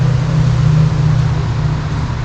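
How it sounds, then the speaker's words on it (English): Highway traffic heard from near a tunnel beside the Great Miami River: a steady, distant low roar of passing cars that runs unbroken throughout, with no talking. "I hear the cars now."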